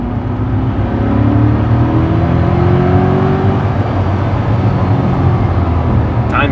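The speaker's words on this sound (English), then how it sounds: "See how it backfires every time you shift?" Chevrolet Corvette C8 engine revving in second gear, a steady loud roar with rising pitch sweeps and brief crackling pops suggesting backfires on shifts near the end, continuous throughout.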